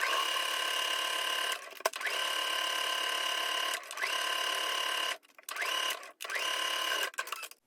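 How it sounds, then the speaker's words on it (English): A sewing machine runs in long steady bursts with short pauses between them, stitching dress pieces straight across with a half-inch seam, close and alone. "Sew these pieces together straight across with a 1/2 inch seam allowance"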